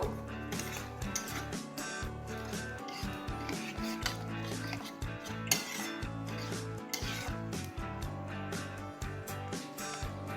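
Spinach paste being stirred into cooked spices in a pan for palak paneer, steady scraping and rubbing of a utensil against the pan with soft clinks, close and moderately quiet.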